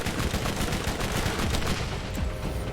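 Dense, continuous gunfire in the video game Borderlands, many weapons and turrets firing at once in a relentless, loud barrage.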